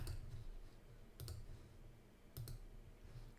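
Mouse clicks in stair-design software, two distinct paired click bursts spaced about a second apart over a low steady hum, close and fairly quiet with no talking.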